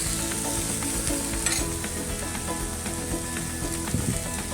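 Chopped radish greens hit a hot pan with turmeric and sizzle steadily, while a spoon scrapes and stirs them close by in an ongoing, dense frying hiss.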